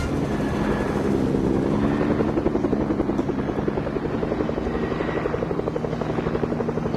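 An aircraft drones overhead in Fortnite, a loud continuous engine rumble with a rapid rhythmic chop running throughout.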